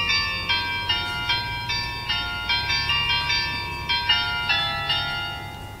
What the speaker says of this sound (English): you can select the sound you hear when somebody presses the doorbell.